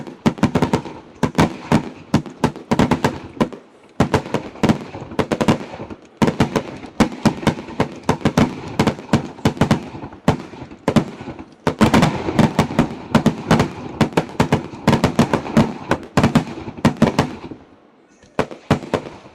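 Fireworks finale at an NPSL soccer match. Rapid, dense volleys of sharp bangs and crackles fire in long continuous bursts with only brief pauses, loud and booming, and faint crowd noise sits under them.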